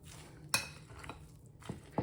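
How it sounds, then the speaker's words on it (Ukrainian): A fork mashing soft cottage cheese with egg in a bowl, a few sharp metallic clinks and taps against the dish at irregular intervals over faint background hiss, no talking. "додаємо до нашого сиру та розминаємо все виделочкою"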